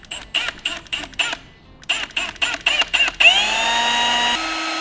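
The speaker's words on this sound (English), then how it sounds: "It's drilling." A power drill whirs in short repeated bursts, starting and stopping, then runs continuously with a rising, grinding whine as it bites through a car's metal transmission housing.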